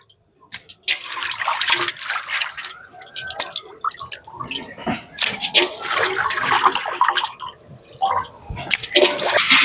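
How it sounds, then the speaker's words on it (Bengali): Katla fish being washed in water in a village kitchen, with irregular splashing, swishing and dripping, fairly close and busy throughout. "এবার ভালো করে মাছটাকে ভালোভাবে ফ্রেশ করে ধুয়ে নিই।"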